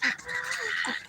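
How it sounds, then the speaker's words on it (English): Canada geese honk loudly and repeatedly from nearby in an outdoor setting, their harsh nasal calls overlapping in a steady, busy chorus that fills the whole moment. "Look at all the Canadian geese."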